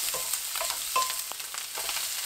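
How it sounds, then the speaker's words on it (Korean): Onion stir-fried with sausage and garlic in a pan over medium heat, a close, continuous sizzle broken by light scraping and tossing of the spatula. "양파 넣고 1분 볶아주세요."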